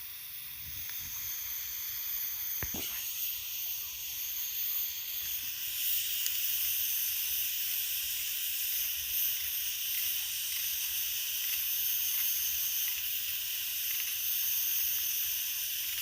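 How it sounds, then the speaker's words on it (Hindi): Chickpeas boiling in a pot, a continuous steamy hiss and bubbling close by, with a brief sharp clatter early on and no voices. "अभी ये देखिए, ये इधर उबल रहे हैं चने"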